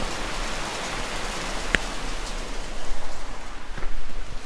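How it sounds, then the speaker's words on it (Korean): Heavy rain shower pours steadily outside an open window, a dense, continuous hiss with no talk, swelling slightly louder toward the end. "밖에 지금 소나기가 너무 시끄럽게 내립니다"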